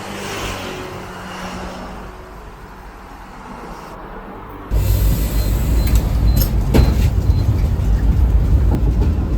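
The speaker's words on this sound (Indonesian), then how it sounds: "Jadi kita mau balik ke arah halte yang tadi dan lanjut naik bis dengan nomor yang sama" Inside route 25 city bus in Macau, a low engine hum plays at first, then the rumble turns abruptly louder and rougher for the rest of the ride.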